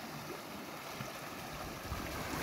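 A stream of snowmelt water in Norway rushes steadily with a dense, even wash that slowly grows a little louder, and no voices are present.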